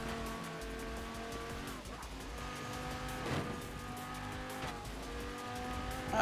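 Game cars in Forza Horizon 4 droning past with steady engine tones, tire squeal and two whooshing pass-bys, fairly close and continuous.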